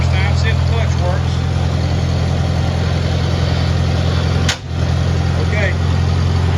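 A 1949 Farmall Cub tractor engine idles steadily nearby with a loud, even chugging drone, a brief dip in the middle, and voices talking over it.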